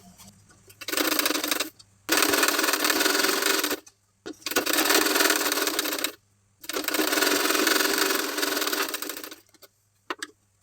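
A sewing machine runs in four long bursts with short pauses between them, stitching sleeve lining onto the main fabric at the pleated part of a sleeve. The whir is steady and close by, and no one speaks.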